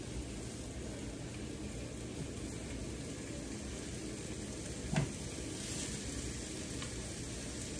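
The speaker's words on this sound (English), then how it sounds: "You hear that sizzle sound, guys? That's from the butter." Sausage links sizzle in butter on a griddle, a steady close crackling hiss of frying with one brief clink partway through, and no one speaking.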